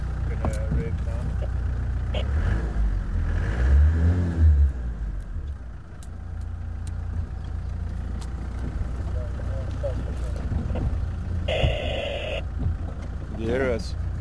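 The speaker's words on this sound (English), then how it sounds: "Rev your engine a bit. Gonna rev now." A safari vehicle's engine idling and revving on a game drive, a steady low rumble with a rising rev midway, heard up close while people talk over it.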